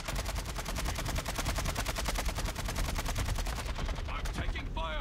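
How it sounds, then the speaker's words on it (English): Rapid automatic gunfire in a video game, a dense, loud stream of evenly spaced shots lasting several seconds before tapering off as a faint voice begins at the end. "I'm taking fire. I'm taking fire, dude."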